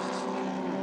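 BMW race cars pass on a track at Queensland Raceway during a 2014 Australian Manufacturers Championship race, a brief, dense engine roar holding steady for under a second.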